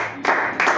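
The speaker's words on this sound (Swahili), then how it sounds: "Tumpe makofi mazuri." A congregation claps during a church service, with bursts of applause rising sharply twice in quick succession, loud and close.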